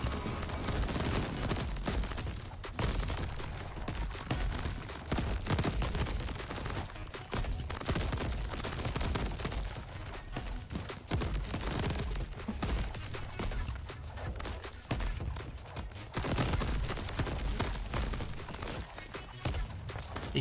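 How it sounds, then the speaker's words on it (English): Constant explosions and rapid gunfire-like blasts rattle through a chaotic round of the video game Crab Champions on Ultra Chaos mode, a dense, unbroken barrage for the whole stretch. "You can see there is a lot of explosions going on."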